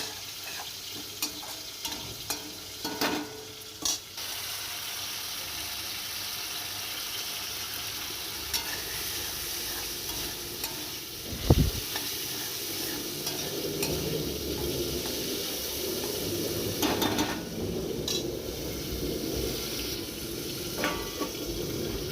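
Potatoes fry with turmeric and chilli powder in a Bengali home kitchen, giving a long, even sizzle with scattered clicks and utensil knocks, one sharp clatter midway, and rising frying noise toward the end.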